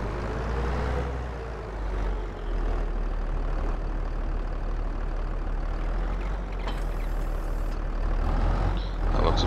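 A tractor engine runs steadily during harvest work, a loud continuous low rumble with a brief high hiss or whine partway through, close by and without talk.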